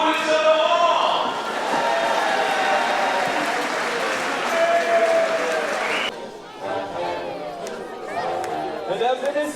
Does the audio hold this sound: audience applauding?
yes